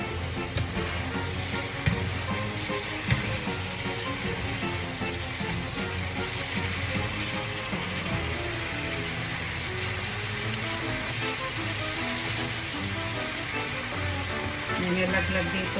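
Chopped carrots sizzle in a hot pan for pork lumpia filling, a steady broadband frying hiss with occasional stirring clicks and a voice talking over it throughout.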